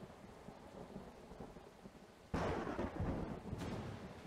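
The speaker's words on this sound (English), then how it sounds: "We get a storm." A thunderstorm in the farming video game Farmer's Life: faint rain hisses steadily, then a sudden thunderclap breaks in and rumbles on, with a second swell just after, and no voices.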